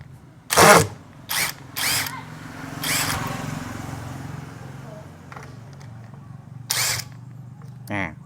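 Short bursts from an OSUKA OCID821 cordless impact driver backing a screw out of soft, water-soaked wood, four or five separate runs of about a second each, close and fairly loud, with quiet speech between them.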